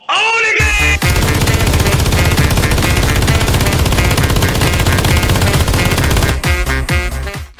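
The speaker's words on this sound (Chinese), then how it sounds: "一挺加特林能够防守住几百个骷髅战士" A Gatling gun fires nonstop in a video game skeleton-warrior battle, a loud, dense stream of rapid shots that runs for about six seconds after a brief lead-in and then breaks into a few trailing bursts.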